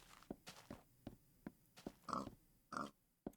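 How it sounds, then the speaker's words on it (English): Pigs grunting and oinking in Minecraft, a few short grunts among faint footstep-like taps, quiet and close with no talking. "So many pigs or something."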